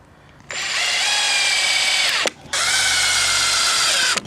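A power drill drives screws into terrace deck boards in two long, loud, steady whirring runs separated by a brief pause, close up with no talking.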